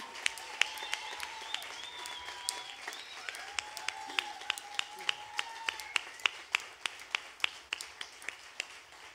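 Audience applause for a band's bassist during a live concert introduction, with steady clapping carrying on while a sustained tonal instrument hums underneath and sharp individual claps stand out.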